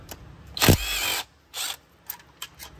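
A ratchet works 8mm bolts loose on the oil pump of a 2011-2016 Ford F-150 3.5L EcoBoost, giving close, loud bursts of rapid clicking followed by a few shorter clicks, with no speech.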